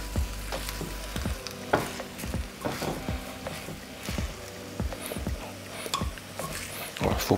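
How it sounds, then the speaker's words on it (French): A kimchi stew mixture sautés in a pot, giving a soft steady sizzle broken by frequent scraping and clattering strikes of a utensil against the pot, fairly close. "on fait revenir légèrement notre préparation"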